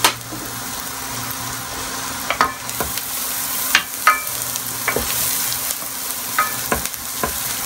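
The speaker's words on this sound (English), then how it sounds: "I'm just cooking this just to kind of cook the onions and garlic together a little bit." Onions, garlic and red pepper flakes sauté in a pan for shrimp scampi, giving a steady close sizzle. A spoon scrapes and stirs through it in sharp clicks and strokes at irregular intervals, with no talk.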